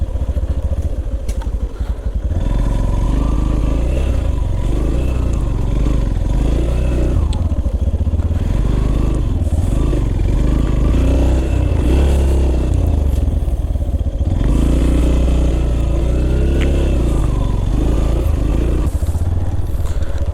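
A motorcycle rides a rural road in Mayurbhanj, Odisha, its engine droning loud and close throughout, with rushing wind and small shifts in pitch as it speeds up and eases off.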